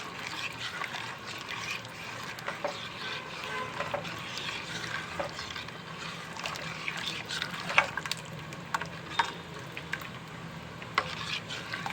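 Hot and sour vegetable soup stirred in a pot over a medium flame, a soft ongoing bubbling and sizzling texture with occasional faint scrapes and clinks of a spoon, no voices.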